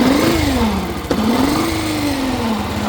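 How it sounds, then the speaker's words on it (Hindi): A Yamaha FZ motorcycle engine with a fault revs up and down nearby, its pitch climbing and falling in waves, with an abnormal whining tone over the running engine. "जैसे ही हम एक्सीलेटर लेते हैं तो इसका साउंड जो है चेंज हो जाता है"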